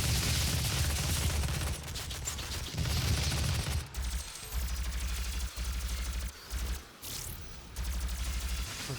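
Dense, rapid gunfire in the video game DOOM, a loud continuous barrage that breaks off into shorter bursts with brief gaps, set over a heavy rumbling game backdrop.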